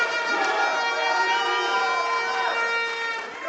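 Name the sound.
crowd cheering a powerlifter at a championship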